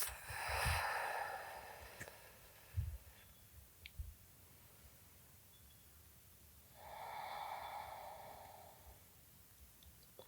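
Slow, steady breathing during a vinyasa flow yoga session, with a long audible exhale near the start and another a few seconds later, separated by quiet pauses and a few soft clicks, close and fairly faint with no talking.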